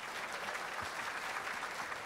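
Sustained applause from the crowd at a U.S. Open pool final, a dense, even patter of clapping heard from a distance, moderately faint and without a break.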